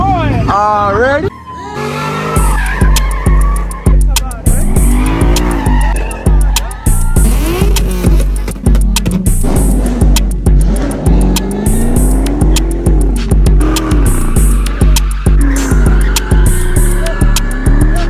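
A Chevrolet Camaro rolls out with its tires squealing and its engine revving in loud bursts up close, while people talk and shout over the noise during a Cinco de Mayo outing in Little Rock.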